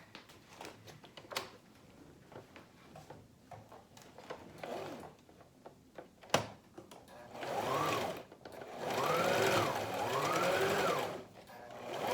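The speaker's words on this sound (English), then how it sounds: "So I'm gonna move my pattern, my sewing machine over." A sewing machine runs in short stop-start bursts, then two longer whirring runs of stitching, its motor rising and falling in pitch, close by.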